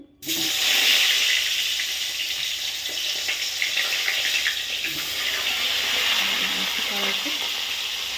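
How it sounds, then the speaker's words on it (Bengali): Water runs steadily from a kitchen tap while two freshly cut fish are rinsed, a continuous close hiss and splash that starts abruptly and carries on throughout, with faint clinks underneath. "মাছগুলো এখন ধুয়ে নেব"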